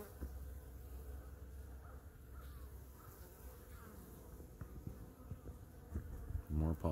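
Honey bees fly in and out of a hive carrying pollen, their close, steady buzzing continuous throughout with a few louder passes near the end and no talking.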